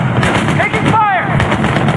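Gunfire in a war video game comes as a dense barrage of loud shots, with a voice shouting over the shooting.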